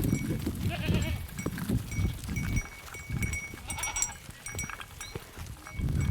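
Goats herded by school pupils bleat in a low, crowded chorus close by, with the sounds of the herd moving through the open air.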